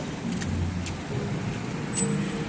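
Busy roadside traffic with several cars and larger vehicles rolling past close by, a continuous engine and tyre rumble that swells slightly near the end, with brief high hiss-like bursts from passing vehicles.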